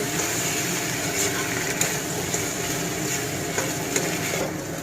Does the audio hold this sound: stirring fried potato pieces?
yes